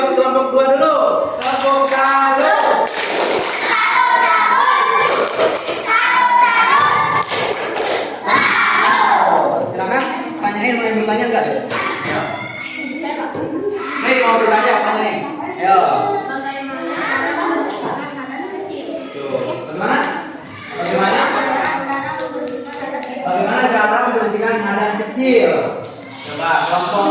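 A class of children performs a rhythmic clapping salute cheer for group 2 in a school lesson, sharp, loud claps mixed with shouting children and an adult voice talking throughout.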